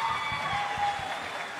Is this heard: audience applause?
yes